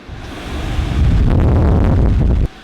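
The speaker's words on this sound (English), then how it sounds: "This little guy is a shop air blower thingy-majigger." A shop air blower roars to life in a garage, its loud broad whooshing rush swelling within a second and holding steady before cutting off sharply, close up with no talking.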